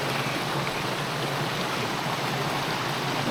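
Waterfall at Middle Black Clough pouring steadily, a dense, unbroken rush of falling water close by, loud and constant throughout with no voices.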